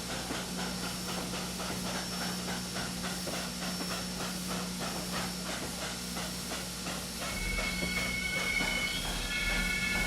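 Southern Railway 4501 steam locomotive in the Trainz game lets out a long, steady brake hiss that runs throughout, with a faint squeal and low rumble joining near the end, with no talk.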